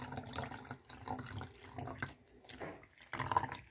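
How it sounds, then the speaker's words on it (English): Drink mix with Starburst flavor is poured into a cup, giving an uneven splashing, trickling liquid sound in several bursts, fairly close and moderately loud. "Now I'm gonna pour some of this in here and see what's the difference"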